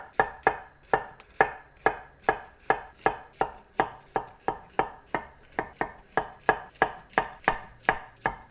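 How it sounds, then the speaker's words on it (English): A knife slicing courgette into rounds on a cutting board, a steady run of about twenty evenly spaced, sharp chopping knocks, close and clear with no talking. "Just going to slice it in circles."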